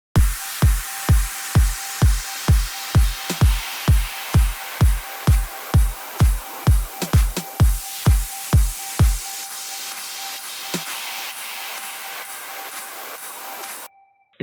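Progressive house drums and effects from a remake of a track: a punchy, steady four-on-the-floor kick with snappy hits and a rising noise sweep, then the beat drops out to a lingering wash before a sudden cut.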